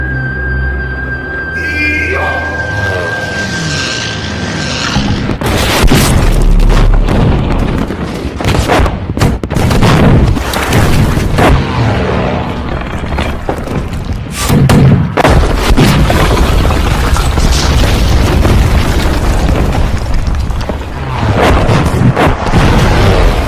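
Loud, dense barrage of booms and heavy blasts from dozens of tanks firing cannons, followed by fighter planes bombing the area around Nanking in the Japan–China war. The impacts rumble continuously with almost no pause.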